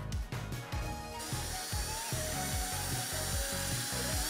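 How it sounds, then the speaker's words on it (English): A power drill spins a self-tapping screw into an aluminium plate. Close, loud whirring comes in a rapid run of regular rattling pulses, with a brighter grinding whine rising partway through. "Just plug it into the screwdriver or a drill and try to drill the aluminium plate with it."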